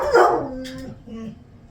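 A dog barks once, loud and close, followed by a softer whimpering tail and a faint yip, indoors with no talking.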